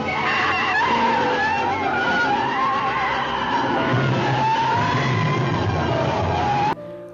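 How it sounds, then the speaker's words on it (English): A loud, shrill screech of a giant spider monster from a film, wavering and warbling continuously, layered with a rumbling roar before cutting off abruptly. "the duo witness the giant spider, complete with a stupid screeching sound effect"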